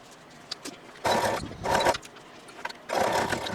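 A sewing machine stitching quarter-inch seams on folded fabric darts for a holiday bowl cozy, running in three short bursts of close, buzzing motor hum with quiet gaps between.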